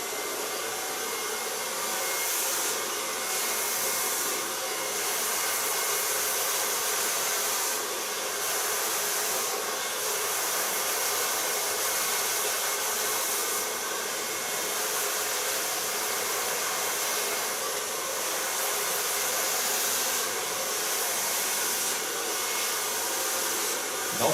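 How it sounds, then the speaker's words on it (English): A hair dryer blows steadily while long hair is dried with a large round brush in a salon, a loud continuous whooshing hum with slight periodic changes in airflow and no speech. "blow dry the hair. Put on a shaper product of Lakme. It's a thickening product. I'll dry it with a large brush."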